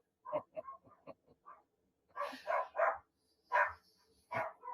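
A small dog yips and barks in quick bursts, first a flurry of short yaps, then several louder barks spaced apart, fairly close by.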